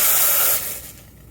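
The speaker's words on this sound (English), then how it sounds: "let's give our steam wand a bit of a purge" A dry steam purge hisses loudly from the steam wand of a Quick Mill Vetrano 2B Evo espresso machine, a single strong spray that cuts back after about half a second and trails off into a fainter hiss.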